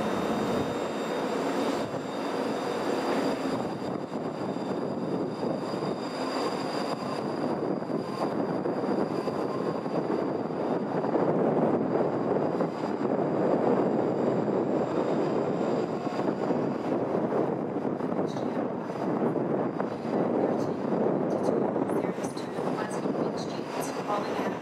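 A six-carriage train bound for Edinburgh sits at a windy Scottish station, giving a steady, loud rumble and hiss of engine and wind. The noise is broad and continuous throughout, with faint tones above it and no talking.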